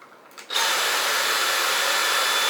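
A Dyson V8 Slim Plus cordless stick vacuum switches on in normal mode and runs steadily with a smooth, airy whir, close and constant.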